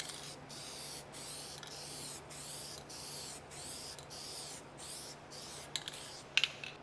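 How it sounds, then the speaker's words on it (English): Aerosol can of SEM Guide Coat 38203 sprayed over bodywork filler, a close steady hiss broken into even bursts by regular short gaps, with a few clicks near the end. "Next, I'm going to use SEM Guide Coat 38203"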